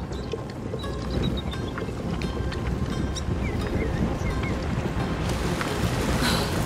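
Strong river current in A Plague Tale: Innocence, a steady loud rush of water with wind, continuous and close, with no voices.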